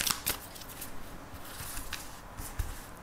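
Tarot cards are shuffled for a reading, quiet, close riffling and slapping bursts that come in uneven clusters with soft rustling between them.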